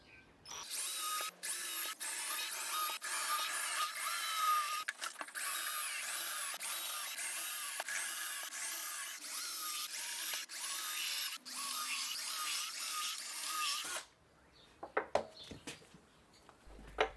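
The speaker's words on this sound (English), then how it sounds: "Use your drill alignment jig and drill the pilot holes." A cordless drill with a 4mm bit bores pilot holes into pallet wood, a steady high whine with cutting chatter running for about fourteen seconds, followed by brief clicks and handling knocks.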